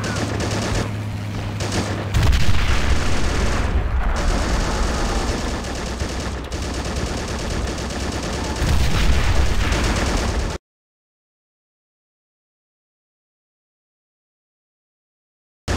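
Dense artillery and gunfire in the Men of War: Assault Squad 2 war game, with continuous loud booms and rattling shots layered for about ten seconds, then abrupt silence.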